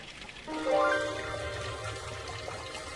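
Water pours steadily from an Inca carved stone fountain at Machu Picchu, fed by a mountain spring, a close continuous splashing gush with no voices.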